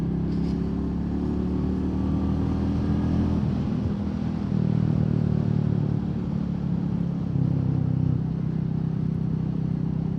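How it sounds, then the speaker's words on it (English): A Royal Enfield Meteor 350 motorcycle engine burbles steadily with a low, uneven exhaust rumble that rises slightly partway through, no voices. "When you shut off, you get a lovely little burble from that exhaust."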